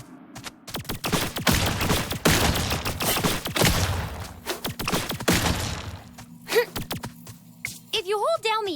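Weapon fire in the side-scrolling action game Spidersaurs, a dense string of sharp shots and impacts layered over game music, loud and close, tapering into sparser hits and electronic effects near the end.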